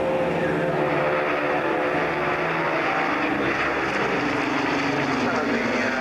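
A propeller aircraft with tricycle undercarriage lowered passes at the North Weald air display, a steady loud drone of engine and prop wash with broadband crowd and wind noise throughout.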